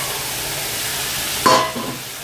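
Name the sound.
sea fish added to spiced oil, frying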